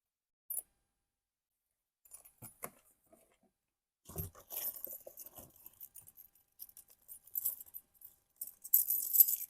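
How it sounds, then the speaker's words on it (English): Keys with a small charm jangle in short, scattered bursts, soft at first and then louder and busier toward the end, close by with quiet gaps between. "Got my keys here."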